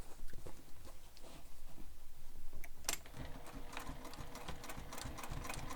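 A sewing machine stitches over trimmed sling pack strap ends, its rapid mechanical needle chatter running steadily, faint at first and then busier and louder.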